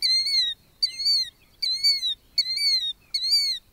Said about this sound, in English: Its oft-repeated calls are commemorated in both its common name